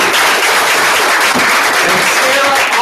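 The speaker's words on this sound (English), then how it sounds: "Sarah Stovall, give her a round of applause" Crowd applause for Sarah Stovall, a dense steady wash of clapping from a live audience that holds evenly loud for the whole stretch, with no pauses.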